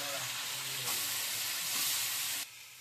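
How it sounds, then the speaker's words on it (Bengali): Curry sautéing in a pan with a splash of water, a steady close sizzle and hiss with soft stirring scrapes, swelling louder midway before dropping off abruptly near the end. "কষা হয়ে গেছে, আমি আর একটু জল দিয়ে কষে নেব"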